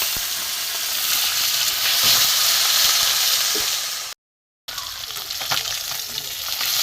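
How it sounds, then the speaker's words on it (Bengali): River fish frying in hot oil, a loud, dense sizzle close by with faint stirring knocks, cut by a brief silence before the crackling resumes. "এটিটা ভালো করে ভেজে নেব"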